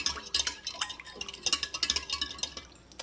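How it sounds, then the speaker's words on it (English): A Danish dough hook works flour into homemade pizza dough in a bowl, giving rapid irregular scraping taps and light clinks, close and fairly quiet, with no talking. "using my dough hook I'm going to mix it in"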